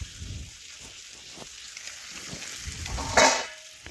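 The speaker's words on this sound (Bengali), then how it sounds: "এখন আমি বেশ কিছুক্ষণ ধরে একটু টমেটো ভেজে নেব টমেটো ভেজে নেব কিন্তু টমেটো একদম গলিয়ে নেব না" Tomatoes with red chilli powder fry in a pan, a soft steady sizzle with low scraping stirs and a brief brighter hiss near the end, quiet and close without voices.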